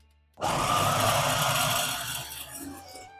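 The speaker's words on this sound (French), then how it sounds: "Je vais mixer le chorizo pour voir en morceaux." A blender chops mild chorizo. The motor starts abruptly, runs at a loud steady whir for about two seconds, then eases down as it winds off, close by with no voices.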